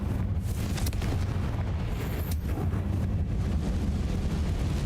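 A Confringo fire spell explodes in Hogwarts Legacy, a steady, loud, rumbling blast of fiery noise that holds through the whole stretch with little break.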